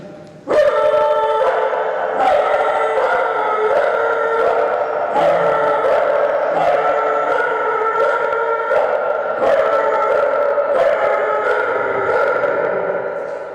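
A dog howls in long, wavering tones over loud chenda melam drumming at a village gathering in Chunakkara, with sharp drum strokes cutting through steadily and filling the scene throughout.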